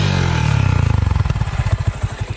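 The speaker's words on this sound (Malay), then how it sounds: "Kuat gila bunyi motor ni padahal pakai trompet dengan air filter saja." A motorcycle fitted with a trumpet-style exhaust and an air filter revs loudly up close, its engine note breaking into a fast, choppy, pulsing rumble as it settles back toward idle.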